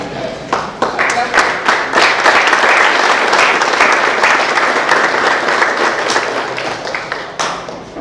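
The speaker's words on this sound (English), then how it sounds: "stand up and give a clap?" An audience at a conference stands and applauds, sustained loud clapping from many hands filling the room, starting with scattered claps, swelling to a dense roar and tapering slightly at the end.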